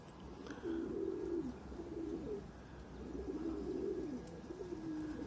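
Soft, low pigeon coos repeat in several rolling phrases, fairly close but quiet over a faint background hum, with no talk.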